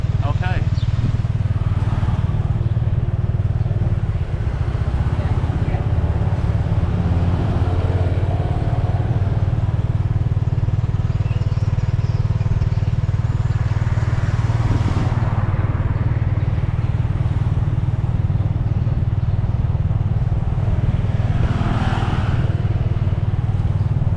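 An old tuk-tuk rides through Pursat, Cambodia: a loud, constant motorbike engine drone with rattling, heavy wind buffeting and passing road noise close by, while a voice talks over it.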